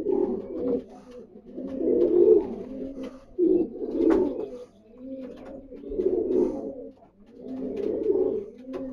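A racing pigeon coos in repeated soft, throaty bursts, close by and fairly loud, about six phrases over several seconds with short pauses between them and no talking.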